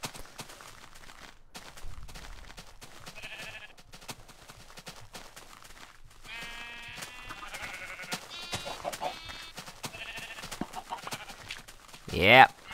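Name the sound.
sheep bleating in the video game Minecraft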